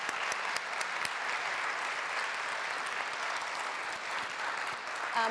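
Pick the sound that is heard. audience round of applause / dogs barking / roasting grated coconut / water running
audience round of applause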